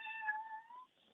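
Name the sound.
cat meowing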